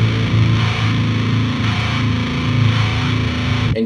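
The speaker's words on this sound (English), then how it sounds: "And you basically have a cool-ass phaser now" A heavily distorted tone passes through a phaser made by modulating a filter cutoff with a sine wave, giving a continuous sweeping, swirling wash throughout.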